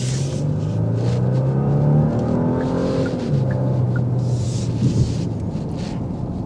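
A 2024 Genesis G80 Sport with a 3.5-litre twin-turbo V6 accelerating on a test drive, steady engine drone rising in pitch, a brief dip as it shifts, then climbing again, with wind and road rumble throughout.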